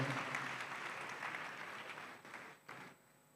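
Crowd applause for award winners at an e-learning conference closing, steady clapping that thins and drops off toward the end.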